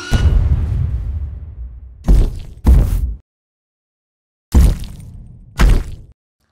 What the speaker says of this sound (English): environment sounds with the steps, like concrete sort of smashing and stuff like that